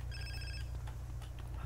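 A phone rings in GTA San Andreas, a short electronic ringtone of bright repeated tones lasting about half a second over a steady low game engine rumble, then fading into background sounds.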